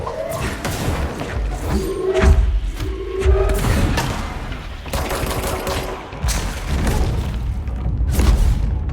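Several explosions and bursts of gunfire crack through combat in Control: The Foundation, heavy thuds recurring every second or two amid ongoing game noise.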